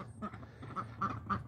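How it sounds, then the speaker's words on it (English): Ducks let out alongside chickens on a small backyard mini farm quack repeatedly in short nasal bursts at moderate distance, over a low outdoor background rumble. "Had the ducks out and the chickens out for a while, letting them play."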